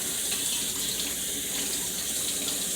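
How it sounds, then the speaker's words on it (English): Tap water runs steadily into a kitchen sink as hands are rinsed after rubbing dry seasonings into chicken wings, a continuous close splashing hiss with no talk. "So I am going to rinse my hands off"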